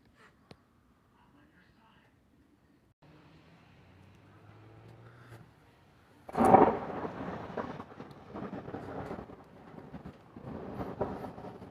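After a near-silent stretch with a faint hum, a loud thunderclap from a severe thunderstorm over the Saint Lawrence River in New York bursts out, followed by a long rolling rumble that fades and swells.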